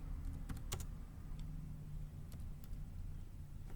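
Typing on a computer keyboard: a few quick bursts of faint key clicks over a low steady hum, with no talking.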